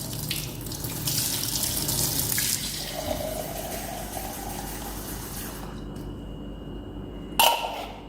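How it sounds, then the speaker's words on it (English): Warm water from a tap runs steadily into a container, a close continuous splashing rush that fades toward the end, with a short clunk near the finish. "Try to add warm water to it."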